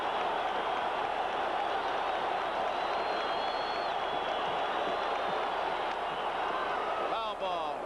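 Dense roar of a baseball stadium crowd at the World Series in 1980, steady and broad throughout, with a brief swell near the end.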